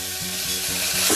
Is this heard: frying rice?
yes